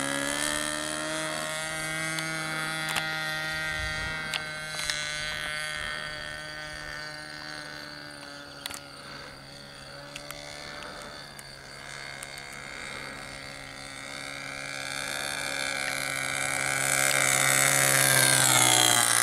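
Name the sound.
nitro RC Cessna 177 model plane flyby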